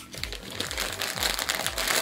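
Vacuum-sealed plastic packaging around a large plush toy that doubles as a cushion is opened, giving close, continuous crinkling and crumpling of plastic with brief rustling bursts throughout.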